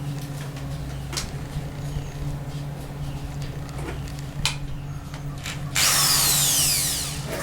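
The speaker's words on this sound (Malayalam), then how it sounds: "നമ്മൾ ഓട്ടയിടുന്നത് ഡ്രില്ലർ കൊണ്ടാണ്" Electric drill boring holes in wood for a small handmade stool: a steady close motor whir with brief ticks and knocks, then a louder, brighter high-pitched whine as the bit bites in near the end.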